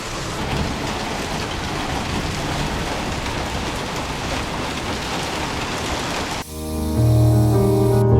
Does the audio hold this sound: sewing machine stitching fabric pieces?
no